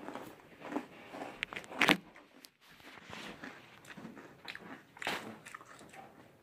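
Someone eats Sour Patch Kids cereal up close, with irregular crunching bites, chewing and wet smacking mouth sounds, one loud crunch standing out, and no talk.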